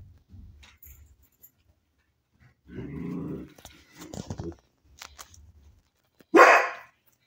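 A dog barks and growls in the Roblox video game, with a low growl building in the middle and a sharp, loud bark near the end, separated by short quiet gaps.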